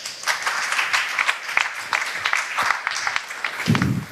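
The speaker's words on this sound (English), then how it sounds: "So give yourself a round of applause." Scattered audience clapping at a humanitarian foundation panel session, a loose patter of individual claps rising and falling briefly, fairly close with no clear talk over it.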